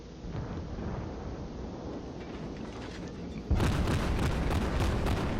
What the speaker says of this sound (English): remember, these are 200 millimeter guns, or 203 millimeter guns